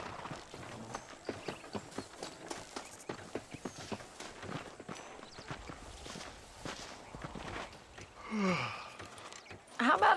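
Horse hooves in Red Dead Redemption clopping at a steady walking pace, a regular series of close, crisp thuds that fades near the end as voices speak.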